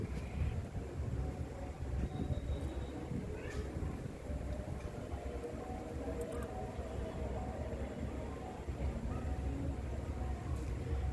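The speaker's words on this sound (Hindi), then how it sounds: "मौसम ऐसा चेंज हुआ ना कि आंधी तूफान खूब तेज़ शुरू हो गई" A strong wind storm blows outdoors during heavy weather, a steady faint roar of gusting air with scattered rustling and a few brief clicks throughout.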